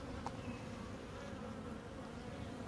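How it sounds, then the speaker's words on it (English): Quiet, steady buzzing of many honeybees close by on hive frames, a continuous low drone with an occasional louder pass. "Those frames got a lot of bees on them"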